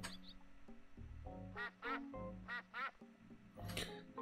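Several nasal duck quacks from the video game My Time at Portia, in short bursts partway through, over steady game background sounds.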